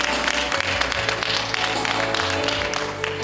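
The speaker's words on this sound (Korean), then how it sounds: "네, 축하 박수 부탁드립니다." Congratulatory applause from the audience at a doctoral degree conferral ceremony at Dongguk University, a steady, dense wash of many hands clapping throughout, with a sustained low tone underneath.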